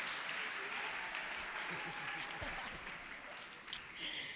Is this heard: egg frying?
no